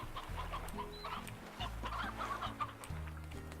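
Chickens and roosters cluck in the Slime Rancher video game, a steady string of short clucks over a low droning in-game background, fairly close and with no talk.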